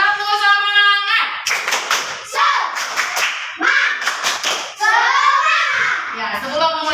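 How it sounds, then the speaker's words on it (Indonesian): A classroom of children perform a rhythmic spirit clap, sharp patterned claps and slaps in bursts, alternating with children chanting and singing in unison between the clapping sequences. "Tepuk semangat."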